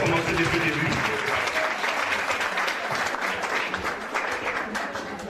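A church congregation at a gospel singers' conference claps together. The applause is loud, dense and steady throughout, with voices mixed in.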